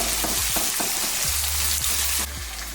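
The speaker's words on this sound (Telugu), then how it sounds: "ముందుగా వీటిని ఫ్రై చేసుకుందాం. బాగా ఫ్రై చేయొద్దండి, లైట్గా ఫ్రై చేసుకోవాలి." Ingredients for a village-style thotakura (amaranth leaf) curry fry lightly in a pan, giving a steady bright sizzle with a few soft scrapes of stirring, close and continuous with no talking.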